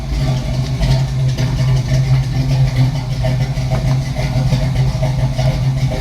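A car engine idles close and loudly with a steady low throb and slight unevenness, its speed sagging a little after a battery jump starter is disconnected.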